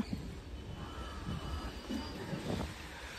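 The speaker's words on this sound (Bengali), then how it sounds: "ওইদিকে আরেকটা মালবাহী গাড়ি চলে যাচ্ছে" A faint, distant freight train rolls by with a low continuous rumble and soft rattling, heard alone without talk, near Sankrail railway station in India.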